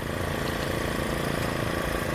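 An automatic onion grading machine with sieves sized for one-and-a-half to two-and-a-half inch bulbs runs nearby, a steady mechanical hum and rattle with an even, unbroken drone.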